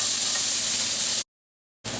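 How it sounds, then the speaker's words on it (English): Diced onions sizzling in extra virgin olive oil in a pan, a steady loud hiss that cuts out abruptly to silence and then resumes. "And my diced onions go in."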